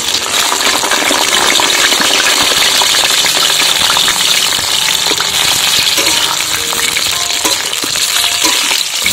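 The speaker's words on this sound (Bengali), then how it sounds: "এবারে আলুটাকে আমরা ভেজে নেব।" Halved potatoes rubbed with salt and turmeric fry steadily in hot oil, a loud, continuous close-up sizzle with crackling pops throughout and no talking.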